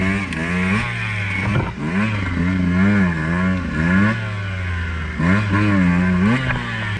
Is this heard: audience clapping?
no